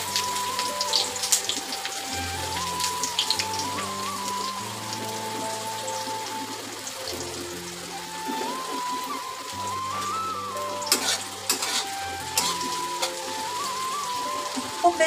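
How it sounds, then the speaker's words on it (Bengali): Chopped onions frying lightly in a pan, a soft crackling sizzle running steadily throughout, with a low musical tone and occasional sharper pops, close and without talk. "খুব বেশি করে ভাজবো না পেঁয়াজটা, পেঁয়াজটা হালকা করেই ভাজবো"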